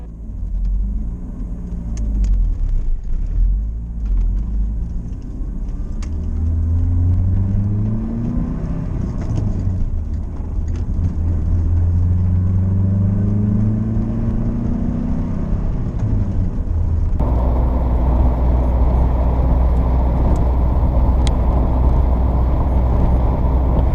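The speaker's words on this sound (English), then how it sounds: "it was time to test drive the car." A Pontiac Fiero out on a test drive after new tie rods were fitted, its engine a steady, loud rumble that rises and falls through gear changes and then settles into a heavier, constant drone near the end, with no talking.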